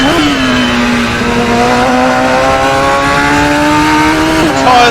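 Radical SR3 XXR race car with a paddle-shift six-speed gearbox in the Assetto Corsa racing game, its engine a loud, steady high-pitched drone holding revs before a quick shift near the end, with no voices.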